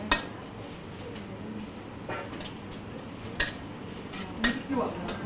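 Beef with chili is stir-fried in a wok over high heat, with a metal spatula clanking and scraping against the pan at irregular intervals over a faint, steady sizzle.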